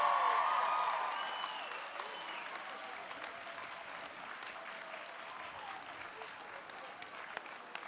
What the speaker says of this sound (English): thank your families, friends, loved ones with a big round of applause